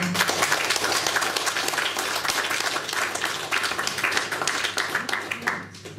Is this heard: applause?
yes